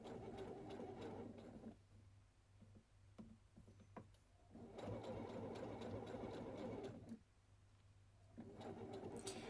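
A sewing machine stitching a sleeve seam on a tee shirt, running in steady close bursts with two short pauses, quiet and whirring, no talk.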